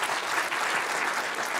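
An audience at a chamber of commerce dinner claps in a dense, even burst of many hands, sustained and fairly loud for the whole short stretch with no talk over it.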